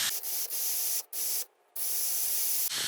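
Penetrant oil hisses from an aerosol can onto a Valkyrie carburetor in bursts: a long spray, a brief break, then further steady sprays, close and loud.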